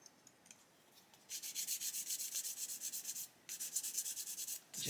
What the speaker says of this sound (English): So we can sand that away off of there.